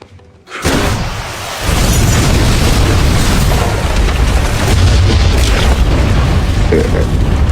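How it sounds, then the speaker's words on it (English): A huge explosion at Connie's restaurant in Harlem brings the building and the apartments above it crashing down, a sudden deep boom after near-silence followed by a sustained loud rumble of collapsing debris. "The big explosion at Connie's shakes all of Harlem."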